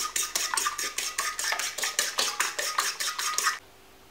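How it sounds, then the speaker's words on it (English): A fork beats corkball pop-up bait paste, mixed with flavouring and white dye, around a bowl in rapid, steady scraping clicks, about fourteen strokes in a row, close and alone before stopping abruptly. "So I've mixed this with a fork until the paste starts to clean the bowl"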